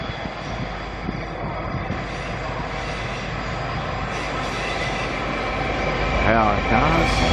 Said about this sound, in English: Here comes the Spirit of Queensland from Cairns,